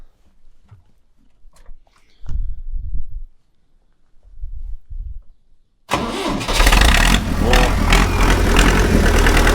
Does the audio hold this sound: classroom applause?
no